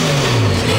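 A Lada Zhiguli engine runs loud and close after being started, revving briefly with a rough mechanical hum, on a car that has had smoke problems.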